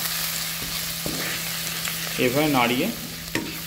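Gram flour fries in a pan and is stirred continuously while making bottle gourd kofta curry, giving a soft, steady sizzle with occasional light scrapes. A brief voice speaks partway through.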